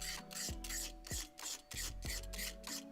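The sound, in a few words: knife scraping old finish off scrap wood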